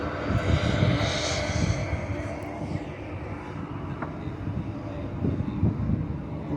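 An aircraft engine drones steadily at a small airport, a continuous mid-distance roar mixed with wind noise on the microphone.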